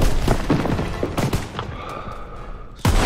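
Gunfire in Call of Duty: WWII, several sharp, loud shots in an irregular burst, then a pause with a faint ringing hum before another close, heavy shot.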